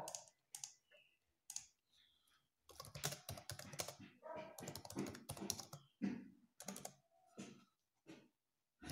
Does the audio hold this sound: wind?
no